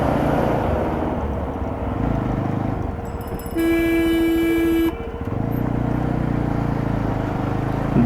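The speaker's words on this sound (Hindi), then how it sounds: "इतना ज़्यादा हेवी ट्रैफिक है।" A car horn sounds in heavy Delhi traffic, one loud sustained honk of over a second amid a steady dense roar of engines and vehicle noise.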